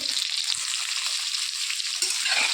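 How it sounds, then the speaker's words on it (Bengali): Pointed gourd (potol) frying in hot oil with salt, giving a steady, close, dense sizzle with a couple of faint utensil touches and no talking. "পটলগুলো ভাজার জন্য দিয়ে দিয়েছি, এখানে একটু লবণও দিয়ে দিলাম"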